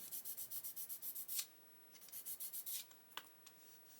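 A small 600 grit sanding stick rubs on a hobby model surface in quick, rhythmic back-and-forth strokes: a run of about a dozen soft scratchy passes, a pause, then another burst and a few scattered strokes, close and quiet.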